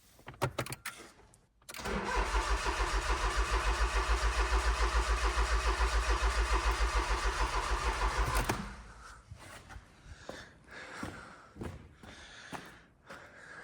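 A Smart Roadster engine cranks over on the starter in a fast rhythmic churn for about seven seconds without catching, loud and close, with quieter clicks and handling noises before and after.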